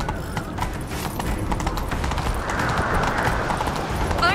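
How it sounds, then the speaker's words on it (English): Hooves clip-clop rapidly in a steady galloping rhythm as a horse runs in The Witcher 3, continuous through the clip with faint ambient game sounds. "Grab a horse, we'll chase him down."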